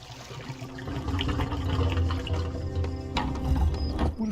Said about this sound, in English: Okay, so the water did drain out of the whole thing. What was with all that rumbling